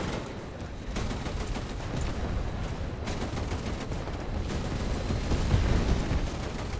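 A 20mm gun firing in War Thunder: dense, continuous rapid fire whose booming shots blur into a rough roar, loud and steady for several seconds with no pause.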